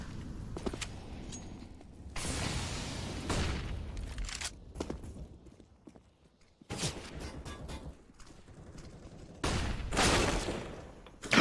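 Grenade explosions from a stacked nade toward mid bomb in a Counter-Strike: Global Offensive match, heard as several loud, broadband bursts in separate clusters, with footsteps and distant gunfire between them and no talking.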